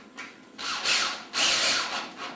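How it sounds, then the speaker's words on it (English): A screw is driven into the pre-drilled hole of a skylight frame to fix a skylight shade rail, giving two close bursts of power-drill whir with scraping friction, close and moderately loud, with no talk. "This rail will get screwed directly into the frame of the skylight."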